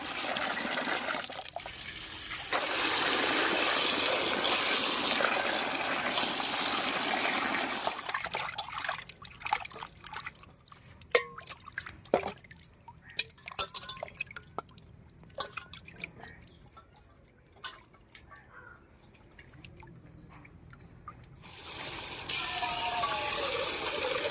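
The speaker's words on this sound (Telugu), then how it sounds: "వరివేలు ముక్కలను ఇలా రెండు మూడు సార్లు శుభ్రంగా కడుక్కోవాలి" Water splashes and trickles as fish pieces from a korameenu (murrel) are rinsed two or three times, with steady running water at first, then scattered drips and sloshes, and a return of flowing water at the end.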